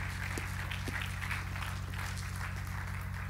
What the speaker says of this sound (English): Give the Lord a hand clap of praise tonight.